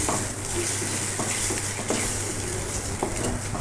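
Ridge gourd and beaten egg stir-frying in a pan: a steady, close sizzle with irregular scrapes and taps of a spatula against the pan throughout, no talking.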